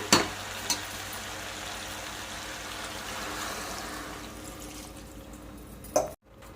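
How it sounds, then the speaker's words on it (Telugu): Water is poured into a pan of frying curry made with dried prawns and raw jackfruit, giving a broad rushing hiss that fills the clip after a couple of soft knocks, then cuts out abruptly near the end. "ఇప్పుడు మనం వాటర్ వేసుకుందాం."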